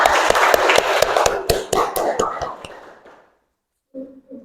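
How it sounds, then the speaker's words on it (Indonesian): A classroom group claps hands together at the close of a student presentation, a dense burst of sharp claps that thins out and stops, followed by a short voice after a pause. "Tepuk tangan untuk kita semua."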